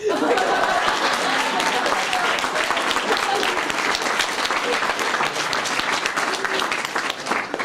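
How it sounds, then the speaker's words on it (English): An audience claps loudly and continuously after a storyteller finishes, dense close applause sustained throughout, with a hint of chuckling mixed in. "You can clap."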